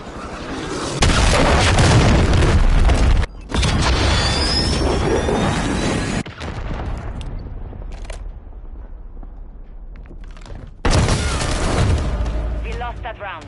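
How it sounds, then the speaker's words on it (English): A cruise missile strike in Modern Warfare 3 bursts in as loud, dense explosions and booming roars with a brief gap, then fades into a long rumbling decay before another loud blast near the end. "Hostiles launched a cruise missile."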